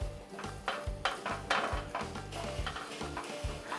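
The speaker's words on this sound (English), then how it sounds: "Stir it all around." A utensil scrapes and stirs fried rice in a pan over low heat, in quick repeated strokes with a light sizzle underneath, close and moderately quiet with no talking.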